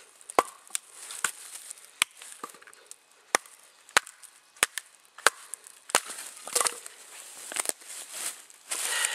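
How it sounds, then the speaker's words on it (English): A thick 5/16-inch CS Recon Scout knife splits a piece of hard wood, giving a series of sharp cracking chops and splintering snaps spaced irregularly, close and loud, with no talking. "split down the wood, simply again because it's just such a thick knife at 5/16."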